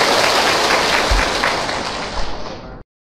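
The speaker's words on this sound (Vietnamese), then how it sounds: "Nếu đồng ý cho một tràng pháo tay thật nhiệt tình để kính mời và lắng nghe." Enthusiastic audience applause at a Buddhist temple gathering at Chùa Hoằng Pháp: a dense, steady wash of clapping that holds loud, then thins and stops abruptly near the end.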